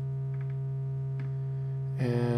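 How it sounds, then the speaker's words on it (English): A low synthesized hum from Pico-8 drones steadily and quietly, with faint blips above it, then shifts near the end into a brighter, buzzier looped tone. "maybe some kind of like low hum"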